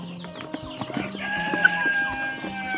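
Backyard chickens clucking during morning feeding, several soft overlapping clucks and calls close by, with no talk.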